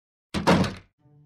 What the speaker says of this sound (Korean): 공주는 얼른 문을 쾅 닫고 식탁에 앉았어.